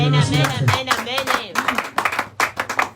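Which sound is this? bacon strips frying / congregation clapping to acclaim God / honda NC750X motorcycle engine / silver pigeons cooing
congregation clapping to acclaim God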